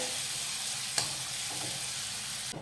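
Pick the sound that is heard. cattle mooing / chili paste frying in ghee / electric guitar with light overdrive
chili paste frying in ghee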